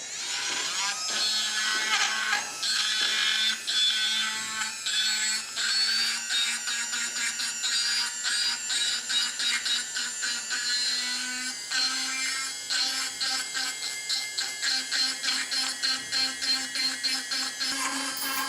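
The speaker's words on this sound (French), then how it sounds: "À l'aide d'une grosse fraise résine, grattez les excédents de résine." A large resin bur grinds away excess acrylic resin while a broken complete lower denture is repaired, a steady high-pitched whine held close and loud throughout with small shifts in pitch as it bites.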